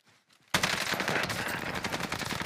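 Sustained rapid automatic gunfire from a weapon in Call of Duty Warzone bursts in suddenly after a quiet moment and continues loud and dense, with no talking.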